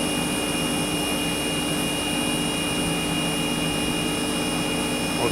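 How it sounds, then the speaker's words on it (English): A Zanotti cooling unit's freezer compressor runs steadily with an odd, strained tone, a continuous broadband whir with sustained high whines, loud and close throughout with no pauses. "the compressor don't sound right"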